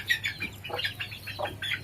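Chickens clucking and squawking with some wing flapping as a grandfather herds them in ahead of a gathering dust storm, several close calls in quick irregular bursts.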